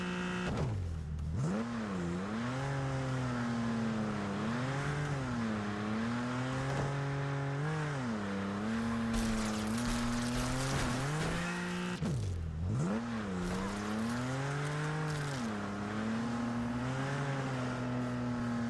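Video game car with a 2-liter inline-four engine drives continuously, its engine droning and rising through revs with gear changes, a sharp drop and climb midway, steady and moderately loud with no talking.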